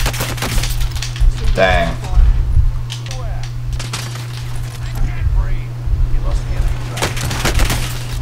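Bursts of gunfire in a multiplayer shooter game, sharp cracking volleys and rattling shots scattered through the clip, mixed with an engine-like hum and someone talking over the action.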